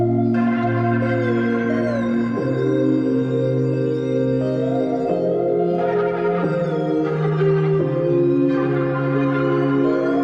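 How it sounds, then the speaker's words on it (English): A third synth processed through hardware pedals, recorded and chopped into bell-like stuttering phrases, plays over steady bass notes in a melodic trap beat, with no talking. "I also added a third synth, but I ran it through my hardware pedals"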